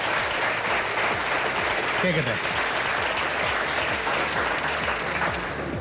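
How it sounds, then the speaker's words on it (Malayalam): Friends clap steadily to cheer on a young woman about to sing at a college event, a dense, continuous patter of applause with a voice speaking briefly over it. "ആൻസിലയുടെ ഈ കൂട്ടുകാരികൾ ആൻസിലയെ ഒന്ന് കൈയടിച്ച് പ്രോത്സാഹിപ്പിക്കാത്തത് കൊണ്ടാണ്"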